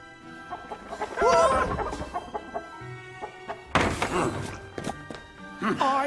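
A chicken clucks in short bursts and squawks in a lively scene with thumps and background voices, the calls rising loud at moments over other noise.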